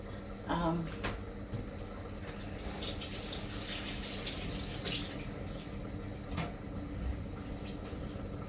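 Tap water running steadily into a cooking pot at a kitchen sink, a continuous close hiss after a brief clatter, with faint background noise throughout.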